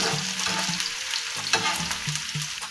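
Chopped onions sizzle and fry in cooking oil with cumin on a hot tawa, a steady close crackling hiss with light stirring scrapes throughout.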